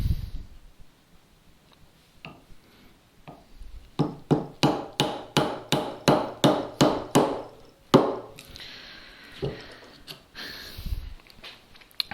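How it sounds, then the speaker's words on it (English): The hard face of a wooden mallet strikes a chisel to chop a mortise in wood, first a few scattered taps, then a steady run of about a dozen sharp knocks close by, followed by softer scraping and occasional hits. "Just using the hard face of the mallet just to kind of plow through this piece"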